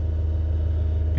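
A 2013 Dodge Avenger engine, just fitted with a new camshaft position sensor, held at a steady raised RPM after being revved; a constant, even low rumble without rise or fall, close and fairly loud, no voices.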